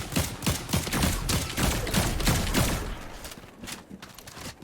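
Rapid bursts of gunfire in Fortnite Zero Build ranked play, a fast fusillade of loud close shots for about three seconds, then quieter scattered fire in the distance.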